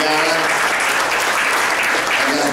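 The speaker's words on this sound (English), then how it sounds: "One more big round of applause for our wait staff" An audience at a live music performance gives a dense, loud round of applause for the wait staff, sustained clapping from many hands throughout.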